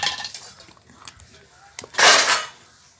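A utensil stirs fruit into fruit cake batter in a bowl, giving soft scrapes and light clinks, then a louder, longer swish of scraping near the end.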